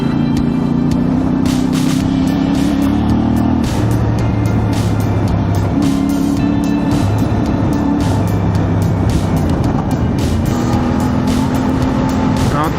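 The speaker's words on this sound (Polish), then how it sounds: "skoczyć na motorek i pośmigać sobie przez takie szutrowe trasy" A CFMOTO 450 adventure motorcycle ridden on gravel roads during an off-road course, its engine droning loudly and continuously with rising and falling revs as it shifts through gears, with wind and gravel noise mixed in.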